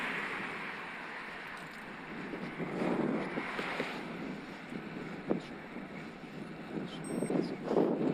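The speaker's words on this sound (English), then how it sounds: "Strong headwind I've got here" A strong headwind buffets a cyclist on a Scott Addict RC road bike, producing gusty, rumbling wind noise across the microphone that swells and fades in uneven surges.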